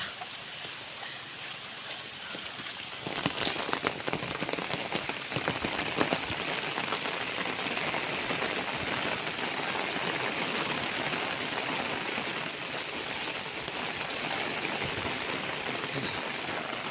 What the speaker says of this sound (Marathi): पावसानं भरपूर जोर धरला ना मस्तच लागता पाऊस